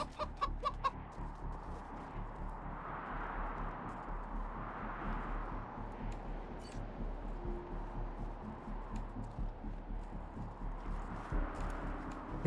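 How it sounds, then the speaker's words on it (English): Chickens cluck in the video game Wasteland 3, a soft, continuous flock chatter with repeated low clucks and occasional rising calls, steady and fairly faint, with light clicking and clopping sounds in the background. "These chickens."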